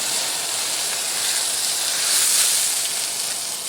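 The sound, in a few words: oil flaring up on grill while cooking onion blossom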